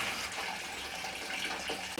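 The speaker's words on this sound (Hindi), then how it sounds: "तो जैसे मैंने टूटी ऑन कर दी, एलिमेंट दोनों ऑन हो गए" Water runs steadily from the tap of a homemade electric instant geyser, a continuous broadband hiss and splash at close range with no talking.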